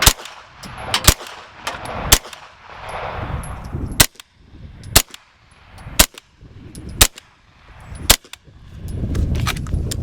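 Suppressed gunshots from a firearm fitted with a HiTec Arms SD 9-inch suppressor, firing 115- and 124-grain rounds: about ten sharp, loud cracks spaced roughly a second apart, with quieter handling noise between them.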